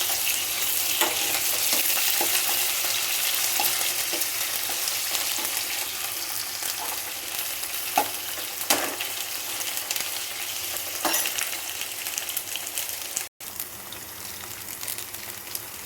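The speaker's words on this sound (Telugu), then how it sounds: "కొంచెం ఆవాలు, అల్లం పేస్ట్, ఇవన్నీ బాగా మగ్గనియాలి." Mustard seeds and ginger paste fry steadily in a hot pan, a continuous close sizzle with occasional sharper pops and faint stirring scrapes throughout.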